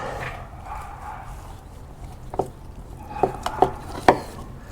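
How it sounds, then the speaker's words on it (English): A knife carving a smoked pork loin roast cooked in an offset smoker with apple wood, a few sharp cutting knocks against a board near the end over a low background hum. "it's time to carve up this pork loin roast."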